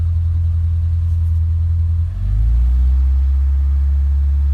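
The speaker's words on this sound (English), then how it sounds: "So rev 2500 and hold it with this engine" A Subaru Impreza 2.5RS GC8 engine rises from idle and is held at a steady 2500 RPM, a loud, close, continuous low drone with a brief dip in level as the revs climb.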